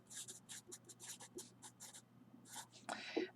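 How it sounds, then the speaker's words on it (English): Pen or marker strokes on paper or a board during a math lesson, a quick run of short scratchy bursts repeating rhythmically close to the microphone, with faint breathing and a low hum beneath. "Let me write it again just to make sure."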